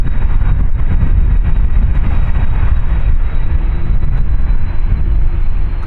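Passenger jet at Amsterdam Schiphol beside runway 36L, a steady loud roar of engine noise rumbling continuously throughout with no talk.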